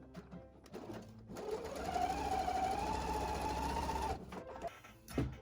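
A sewing machine stitches the long edges of a fabric art pouch in one continuous whirring run of a few seconds, fairly quiet and close, with small handling clicks before and after and no talk.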